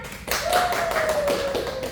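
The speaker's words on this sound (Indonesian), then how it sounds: "saya beri tepuk tangannya" A few sharp hand claps in a microteaching classroom, close and brief, with a steady tonal hum running underneath.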